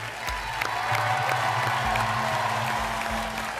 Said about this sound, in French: On vous applaudit encore très très fort